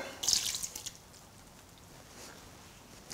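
Water pours into a gluten-free pastry mixture of sifted flour, salt and butter in a stand-mixer bowl, making a brief splashing trickle that fades into quiet room tone.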